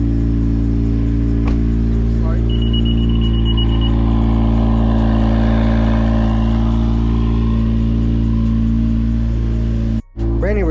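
A 10th-generation Honda Civic Si running on E85 idles after a cold start, a loud, steady, low engine drone close by, with a brief electronic beep early on and a short dropout near the end.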